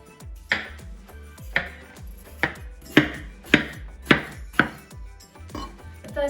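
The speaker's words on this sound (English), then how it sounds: "just cut it up into rough chunks" A knife chops melon into rough chunks on a board, crisp knocks landing at an irregular pace, some closely spaced, loud and near with no talking.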